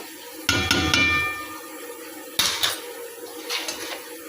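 A metal spoon clanks and scrapes in a pan while raw sour mango pickle with turmeric and salt is stirred: a few sharp clinks, then a quieter, intermittent scraping, with no talking.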